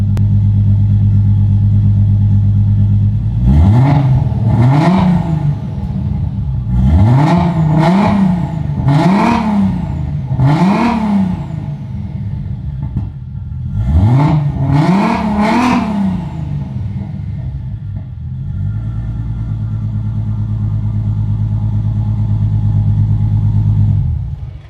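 An Audi RS3 fitted with a 4-inch Flowmaster exhaust, idling inside a garage, blips its throttle in several loud, close revs that rise and fall in quick clusters before settling back to a deep, steady idle.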